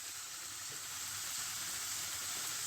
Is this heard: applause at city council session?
no